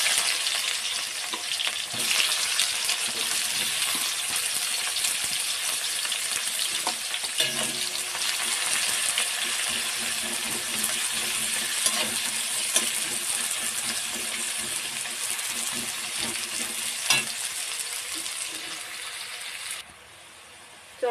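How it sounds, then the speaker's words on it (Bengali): Chopped onions fry in hot oil in a pan after potatoes have been fried in it, giving a loud, constant sizzle with scraping stirs and clinks of the spatula, then stopping abruptly near the end. "পেঁয়াজটা ভেজে নেবো।"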